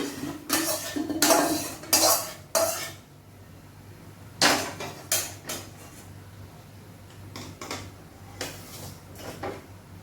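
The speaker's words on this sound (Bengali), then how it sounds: "এইসব সবজি আমি কড়াইয়ে দিচ্ছি।" Chopped vegetables tipped into a wok for khichuri, followed by loud, close clattering of a metal spatula against the pan in bursts, then lighter scattered scraping and clinks, with no voices.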